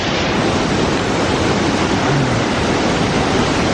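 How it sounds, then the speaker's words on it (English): A waterfall in Echo Valley, Sagada, Philippines, roars close by as a loud, steady wash of white noise with no pauses and no voices. "We finally made it to the waterfalls."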